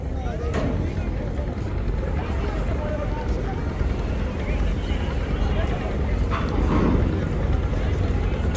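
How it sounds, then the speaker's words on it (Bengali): Passenger launch Parabat 18 pulling away from Sadarghat river terminal in Dhaka at night, bound for Barisal, heard as a steady, dense engine drone mixed with busy riverside crowd and water noise, continuous and fairly loud. "পারাবত 18 লঞ্চ কিন্তু ভালো যাত্রী নিয়ে ইতিমধ্যে ঢাকার সদরঘাট থেকে ছেড়ে যাচ্ছে"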